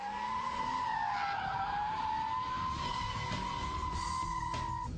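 A car does donuts on tarmac, tires squealing in a long continuous screech that wavers slightly in pitch, under a steady background engine roar from a short distance.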